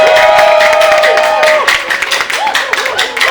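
An audience cheers, shouts and applauds loudly, with high whooping voices over a wash of clapping that stays strong throughout.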